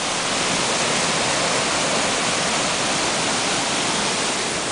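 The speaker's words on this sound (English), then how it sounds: "Let's go check out this little waterfall thing." A small waterfall near Mount Rainier in Washington roars steadily and close, a dense unbroken rush of falling water with no voices over it.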